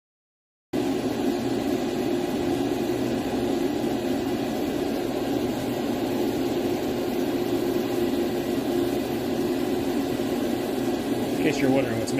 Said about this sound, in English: In case you're wondering what's making all the noise, it's the exhaust fan.